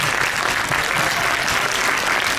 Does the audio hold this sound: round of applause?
yes